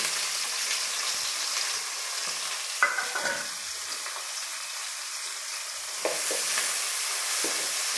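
Chopped onions frying in a pan with bay leaf, cinnamon, cloves and cardamom for a donne biryani, a steady close sizzle with stirring scrapes, no talk.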